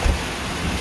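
Heavy monsoon rain mixed with hail pounds down in a steady, dense roar, with a brief low thump near the start and no voices.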